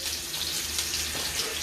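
A base mixture poured over pan-seared salmon in a pan, giving a continuous bright splashing trickle like running water, steady and close throughout with no voices.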